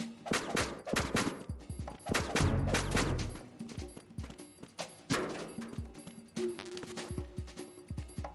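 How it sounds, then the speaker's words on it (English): An RGB-6 grenade launcher fires in the Metal Gear Solid 2 video game: a rapid series of sharp bangs and bursts, some overlapping into a rumbling stretch, loud and close, with no talk. "This is the RGB-6, which is a grenade launcher."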